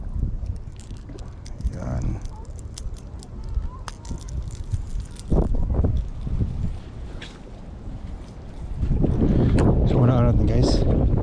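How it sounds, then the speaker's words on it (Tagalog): Strong wind gusts buffet the microphone outdoors during ocean fishing, a rough, uneven roar that swells louder near the end, under a man's speech. "Makalakas yung hangin."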